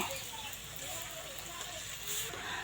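Maida biscuits (madan kotkoti) frying in a small amount of oil, a steady close crackling sizzle that runs evenly throughout with no voices.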